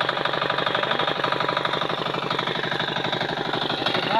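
A steady mechanical engine idles close by, a continuous rapid chugging rhythm without pause and no voices.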